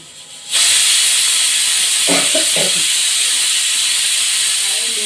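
A kitchen pressure cooker lets out a sudden loud burst of steam that settles into a continuous harsh hiss, close and strong, with a faint brief knock partway through.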